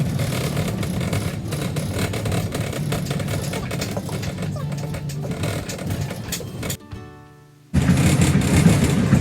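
Steady rumbling road noise from a car riding over a bumpy road, with rattling and a droning engine throughout, cutting out briefly near the end before resuming at full loudness.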